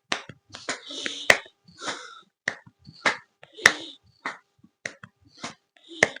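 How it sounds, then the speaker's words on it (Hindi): Hands clapping back and forth during a beginner yoga exercise session, a series of sharp irregular claps spaced across several seconds in a quiet room, with an instructor's voice between them. "ताली बजाएंगे आगे पीछे"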